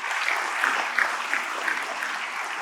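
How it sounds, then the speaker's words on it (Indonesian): Congregation applause at a church revival night service, moderately loud and steady with soft rhythmic clapping peaks, a brief burst lasting under three seconds. "Berikan tepuk tangan."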